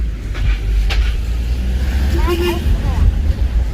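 A car driven fast by a father, the engine and road noise rumbling steadily close by while people talk over it.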